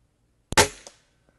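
A single shot from an Air Arms TX200 HC .177 underlever spring-piston air rifle: a sharp crack and a short, bright burst that fades within half a second, with a faint click just after, in an otherwise quiet setting.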